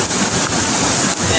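Heavy floodwater rushes through a cave during a downpour after rain raised the water level, a loud, steady broadband roar with no pauses that fills the whole moment.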